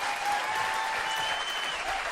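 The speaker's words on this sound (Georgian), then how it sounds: "აპლოდისმენტები ხურვალე" Warm, steady audience applause in a Georgian television singing show studio, continuous dense clapping that stays loud and even from start to finish.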